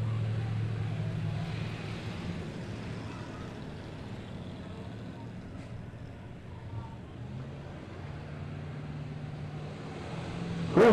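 Kid cruiser race cars run around a dirt track at Midway Speedway on opening night, a steady distant engine drone with crowd-like ambience and no clear passes standing out.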